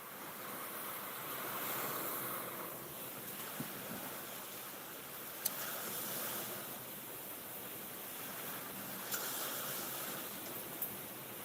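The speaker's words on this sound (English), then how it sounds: "I think that's water hitting the front door of the camp" Storm water from Hurricane Francine hits the front door of a lakeside camp on Lake Pontchartrain, a steady wash of surging, splashing noise with gusty wind and occasional sharp knocks, with no talk.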